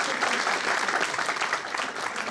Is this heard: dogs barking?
no